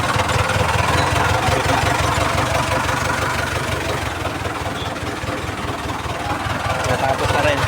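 A car engine idling steadily after I-beam replacement work, with a close, loud rhythmic chugging and a slight dip in level midway, with talk faintly in the background.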